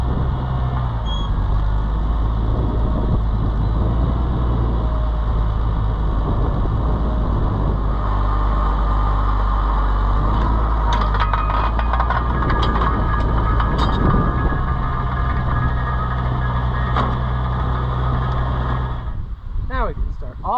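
A tractor engine runs close by, a continuous loud low rumble with a throbbing beat, while someone talks over it now and then.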